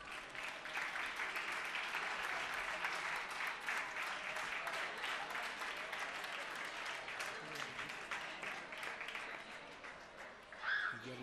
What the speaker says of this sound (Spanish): Ahora sí, un fuerte aplauso, por favor.